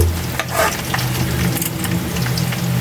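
Oil sizzles and crackles steadily as anchovies fry in a pan, with occasional stirring scrapes, close and continuous.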